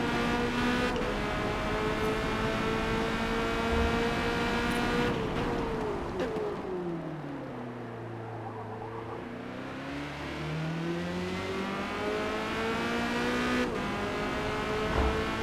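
A Corvette C8.R race car engine drones loudly around Hockenheimring in a Forza racing game, its pitch falling as the car slows into a corner and then climbing again under acceleration, with no voice over it.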